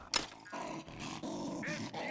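A dog in the video game Gorn growls and snarls in a short rough burst lasting about two seconds, fairly quiet and close.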